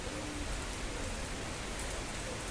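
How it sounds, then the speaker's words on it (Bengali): Heavy rain pours steadily during a storm on a dark day, a dense, continuous hiss of drops on surfaces that stays at an even level throughout, with no voices. "এখন জল পড়ছে একটু বেশি বেশি পড়ছে"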